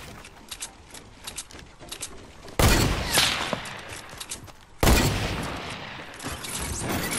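Sniper gunfire in a Fortnite match: two loud, sharp shots a couple of seconds apart, each trailing off, with lighter clicks and game sounds in between.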